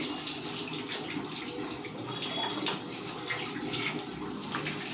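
Homemade aloe vera hair oil boiling in a pan, giving a steady, dense bubbling and sizzling hiss that carries on evenly throughout without any break or pause.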